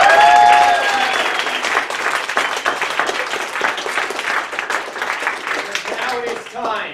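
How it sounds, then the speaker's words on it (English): An audience applauds performers at the end of a comedy show: loud, dense clapping from a crowd that holds steady and then thins, with a voice heard over the start. "Please give our performers one more round of applause."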